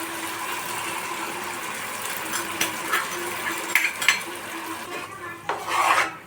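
Spoon scraping and stirring spinach paste through chicken curry in a metal pot, a steady rasping churn with occasional louder clinks of utensil against the pot rim.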